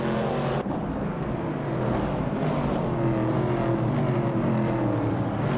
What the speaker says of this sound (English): Pippi Langstrom is driving a 1970 Ford Mustang Boss